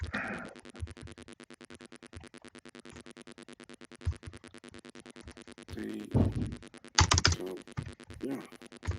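Rapid, steady clicking of keys on a computer keyboard, close and continuous, with a few louder bumps and brief movement noises near the end.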